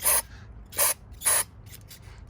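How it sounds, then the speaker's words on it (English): Carb cleaner is sprayed into a Yamaha YZ125 two-stroke dirt bike engine in three sharp hissing bursts of about a quarter second each, close to the can, followed by faint ticking and a final short spritz. "spraying it down into this engine."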